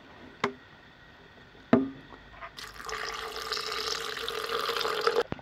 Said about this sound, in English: Let's add the filtered water already now.